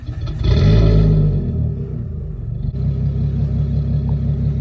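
A 500HP RB25-swapped Nissan 240SX starts up close by with a loud burst and rev, then settles into a deep, steady rumbling idle.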